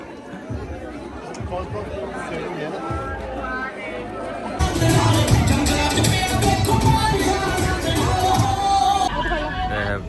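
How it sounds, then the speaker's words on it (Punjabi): Crowd chatter at a Sikh langar serving puris during a UK Nagar Kirtan, a dense babble of many voices that swells louder halfway through, with people talking nearby. "ਅਸੇ ਪੂਰੀਆਂ ਦਾ ਲੰਗਰ 'ਚ ਬਹੁਤ ਭੀੜ ਆ"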